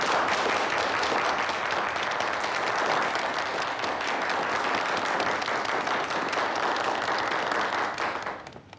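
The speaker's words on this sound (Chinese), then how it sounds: "让我们把掌声送给郑阳" Sustained applause from an audience in a meeting room, dense and even clapping at moderate level that continues throughout before tapering off at the end.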